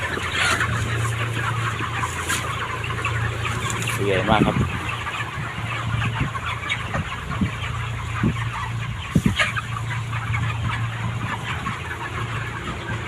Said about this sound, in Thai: นี่ก็ทำมาดูไก่